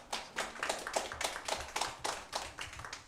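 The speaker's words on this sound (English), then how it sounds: "If you continue to applaud, I will recess the meeting and we will clear the room" Audience in a city council chamber applauds, a fairly close burst of claps with uneven rhythmic peaks running throughout, no talking over it.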